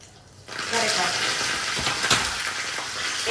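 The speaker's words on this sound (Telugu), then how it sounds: "ఇవన్నీ వేసిన తర్వాత తాలింపు తీసేసి చిటపట్లాడిపోయింది" Curry leaves, mustard seeds, cumin, chana and urad dal, and a dried red chilli sputter in hot oil as a tempering for beetroot fry. A loud close sizzle with crackling bursts starts abruptly and continues steadily.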